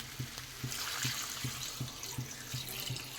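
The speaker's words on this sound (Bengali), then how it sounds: "এখন দিয়ে দেবো জল" Water pours steadily into a pan of simmering curry of potatoes, kohlrabi and cauliflower with magur catfish, a continuous splashing flow with a faint rhythmic tapping beneath it and no talk.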